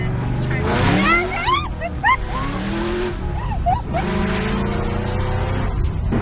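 Supercharged Pontiac GTO making roughly 630 horsepower, engine running loud and steady with rising and falling revs, a voice talking over it throughout.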